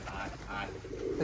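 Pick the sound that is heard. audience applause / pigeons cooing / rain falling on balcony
pigeons cooing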